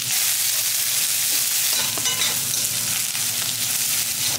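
Long-sliced large onions sauté in a pan with a steady, close frying sizzle, a few stirring scrapes and clicks partway through, and no talking.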